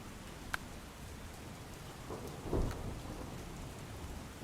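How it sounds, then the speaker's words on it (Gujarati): Heavy rain falls steadily in Porbandar, a dense even hiss with a low rumble of thunder swelling briefly midway, no voices. "હાલ પોરબંદરમાં છેલ્લા ત્રણ દિવસથી જે ભારે વરસાદ વરસી રહ્યો છે"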